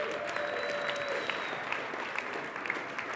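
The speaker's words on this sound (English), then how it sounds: "Let's give them a big round of applause." A crowd claps steadily and densely throughout, a sustained wash of applause with a few sharper claps standing out.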